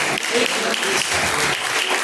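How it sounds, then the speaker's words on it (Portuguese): A church congregation claps in a dense, steady burst of applause, loud and close, lasting a couple of seconds. "pode receber palmas"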